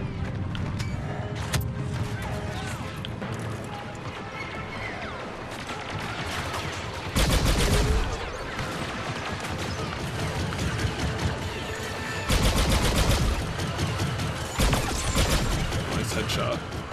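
Rapid gunfire bursts and explosive blasts from a co-op battle on Scarif in Star Wars Battlefront 2, loud and dense throughout with louder crashes near 7, 12 and 15 seconds, while a voice speaks over the action.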